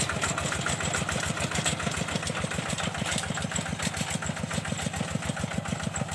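A ride-on mower engine chugs steadily nearby while cutting a grass plot, its rapid even knocking rhythm running unbroken throughout.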